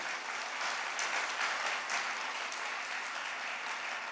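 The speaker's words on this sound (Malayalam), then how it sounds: "ഒന്ന് കൈയടിച്ച് കർത്താവിനെ മഹത്വപ്പെടുത്തുക." A church congregation claps to praise the Lord, a dense, even wash of applause from many hands lasting a few seconds, moderately soft and without voices.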